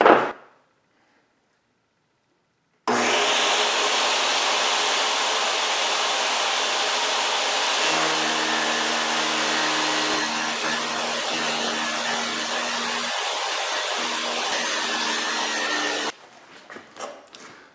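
A table saw's abrasive blade grinds through a steel bearing, a loud, steady broadband hiss running for about thirteen seconds with a faint tonal whine partway through, then cutting off abruptly.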